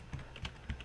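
Three quick bursts of keys tapped on a computer keyboard while entering a Python list for a SPIKE Prime memory game, close and clear with no talk.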